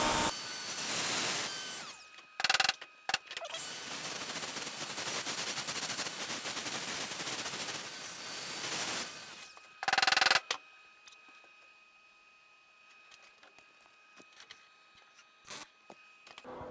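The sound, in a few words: welding a rusty windshield frame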